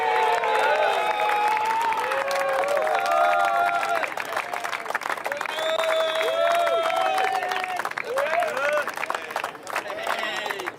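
Crowd at a South African masters surf championship final at Seal Point, Cape St Francis, cheering and clapping in a steady, lively wash, with voices calling out amid the applause.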